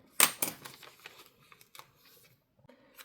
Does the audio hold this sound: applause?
no